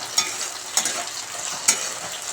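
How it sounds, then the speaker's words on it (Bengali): Panch phoron five-spice frying in hot oil in a pan, a steady close crackling sizzle with a few sharper pops and stirring scrapes, no talking. "পাঁচফোড়ন ফোড়ন দিয়ে এই যে এটা বসিয়ে দিয়েছি একটু ভাজা ভাজা করে"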